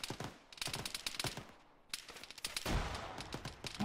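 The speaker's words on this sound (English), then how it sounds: "Grenade down, get down." A grenade explodes in the Arma 3 military shooter as a loud, broad blast partway through, set among rapid bursts of automatic gunfire that crackle throughout.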